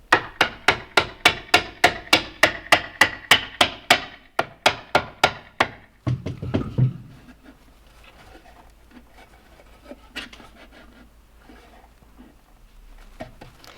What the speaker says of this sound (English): it might help to take your hammer and tap that into place